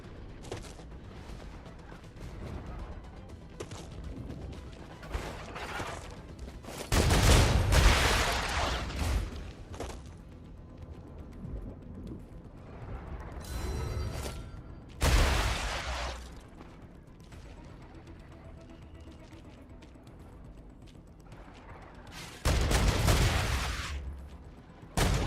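Gunfire in the video game Star Rupture, with three heavy, loud bursts of shots spread across a steady backdrop of game ambience and no talk.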